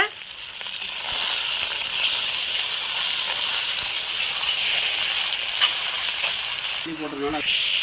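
Chicken macaroni stir-fries with tomato sauce in a pan, making a continuous close hissing sizzle. A brief scraping stir comes near the end.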